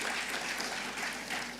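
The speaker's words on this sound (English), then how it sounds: "Can we have a round of applause to honor these people for that authority?" At a launch event in Uganda, an audience gives a round of applause, a steady, even patter of many hands clapping at moderate volume.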